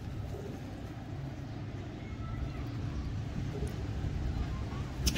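Pigeons coo softly from a rooftop kabootar-bazi loft in Lahore, the low, rolling calls half buried in steady broadband outdoor noise across the whole stretch.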